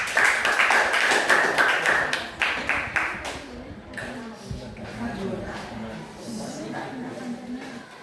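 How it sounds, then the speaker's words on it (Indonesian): A classroom claps for a presenting student group. A brisk burst of claps fills the first few seconds, then fades out while a teacher's voice carries on. "tepuk tangan untuk kelompok 2"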